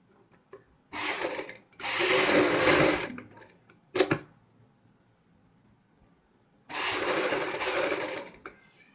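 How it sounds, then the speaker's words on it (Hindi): Sewing machine stitches piping along a fabric sleeve in three separate runs: a short burst, a longer steady whir, a brief blip, then another sustained run after a pause of silence. "अब मैं इस पे पाइपिंग के साथ साथ सिलाई लगाऊंगा।"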